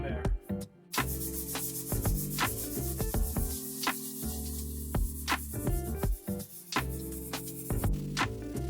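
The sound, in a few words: hand sanding a steel beer keg barrel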